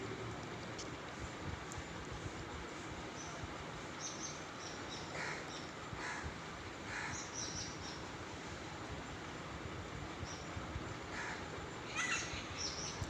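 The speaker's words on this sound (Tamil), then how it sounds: "இப்போ வேறொரு பறவை வந்து கத்துது அதனுடைய சவுண்டு வந்து நல்லாயிருக்கும்" Faint, sporadic bird calls ring out over a constant noisy outdoor background, short repeated cries spaced a few seconds apart.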